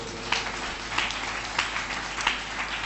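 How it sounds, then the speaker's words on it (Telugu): A church congregation clapping their hands, a dense steady patter of many claps with soft periodic swells, heard from a moderate distance. "చప్పట్లు కొట్టండి"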